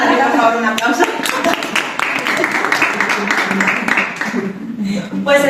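A live audience at an eSpring water-filter presentation in Alicante breaks into dense, sustained applause that continues for several seconds, with a presenter's voice heard over it.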